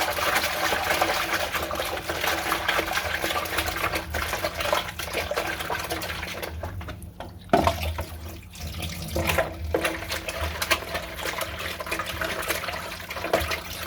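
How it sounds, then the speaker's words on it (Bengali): Hot water runs from a kitchen tap over fish being cleaned, a steady splashing stream that continues throughout with a brief interruption near the middle, no voices heard. "আমি এখন গরম পানি দিয়ে দিচ্ছি। গরম পানি দিয়ে মাছগুলো সুন্দর করে কষিয়ে নেব।"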